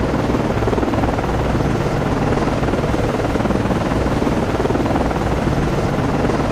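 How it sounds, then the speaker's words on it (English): A helicopter lifting off from a destroyer in the naval game Cold Waters, a loud, close, continuous rotor thrum and engine roar holding steady throughout with no talk. "Con, Flyco, launching aircraft. Con, Flyco, aircraft is in the air."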